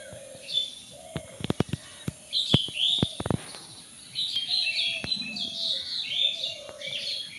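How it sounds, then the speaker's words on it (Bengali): Hidden birds chirp and tweet in quick overlapping calls, one lower cooing note among them, with several sharp clicks and taps in the first seconds; no voices. "পাখি দেখা যাচ্ছে না, অথচ কিন্তু পাখির কিচিরমিচির ডাক"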